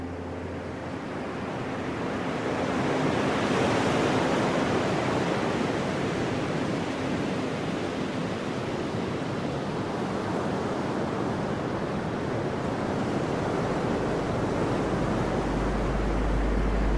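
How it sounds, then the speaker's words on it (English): Steady broadband surf of ocean waves at the edge of the land, a continuous wash that holds level and fairly loud throughout with no voices. "you can see the ocean."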